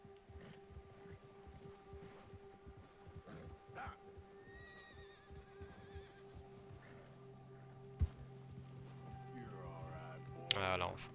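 A frightened horse whinnies in Red Dead Redemption 2, with nervous snorts and hoof clops under game ambience and a low steady hum, a sharper burst near the end.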